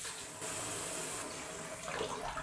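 In a noodle-cooking video game, water rushes steadily from a repaired pipe, a broad continuous hiss and splash that holds even for about two seconds and then shifts slightly as it fades.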